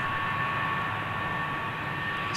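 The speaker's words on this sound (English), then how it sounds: "737 KLM. Giving it some beans." At Heathrow Airport a KLM Boeing 737 jet powers up, its engines a constant, even rush of broadband roar and hum held steady throughout with no talk.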